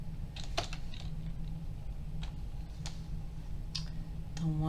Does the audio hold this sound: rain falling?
no